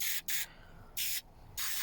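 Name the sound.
Mr Muscle cleaner spray bottle spraying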